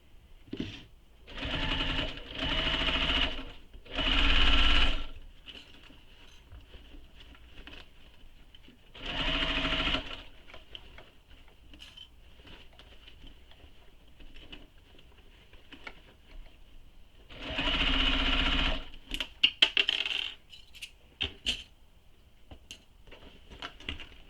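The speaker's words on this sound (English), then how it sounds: "So sew this with the seam allowance given in the pattern." A sewing machine stitches a tote bag seam at regular stitch length in several separate bursts of steady motor whirring, close and fairly loud, with quiet pauses between runs and a few light clicks near the end.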